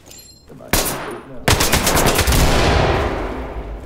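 Gunfire in the tactical shooter game Ready Or Not: a sharp shot followed by a rapid automatic burst, loud and close, with room echo trailing off.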